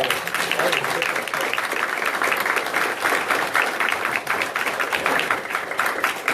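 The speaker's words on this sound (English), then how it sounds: "They deserve a round of applause" An audience claps in a dense, steady round of applause that carries on without a break for several seconds.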